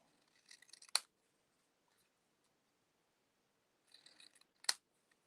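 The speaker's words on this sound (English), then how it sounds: "I basically just use my scissors and cut around" Two crisp snips of scissors cutting paper, each preceded by soft rustling, separated by a quiet pause; close and clear.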